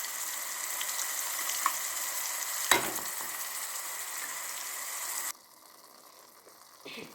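Coconut, tomato and spice masala for sambar fries in hot oil with a steady sizzle, broken by a sharp clatter midway, then the frying drops away and a faint hiss remains.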